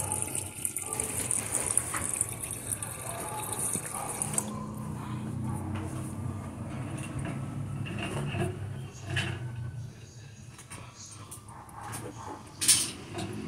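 A toilet with a coupled cistern and an Astra MDU2 fill-and-flush kit flushes in a loud gush, then water runs and refills steadily for several seconds, with a sharp knock near the end.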